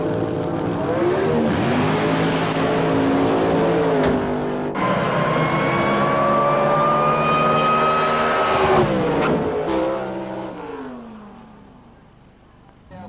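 An automatic-transmission drag racing car launches from about 2000 rpm and screams down the strip, with a loud sustained engine roar that climbs through gear changes before fading into the distance.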